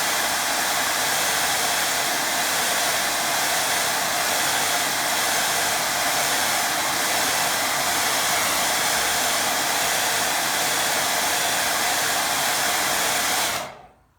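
A hair dryer blows steadily, loud and close, drying a watercolour painting with a constant broadband whoosh for about thirteen seconds before cutting off abruptly.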